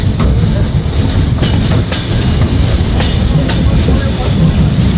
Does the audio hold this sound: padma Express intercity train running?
yes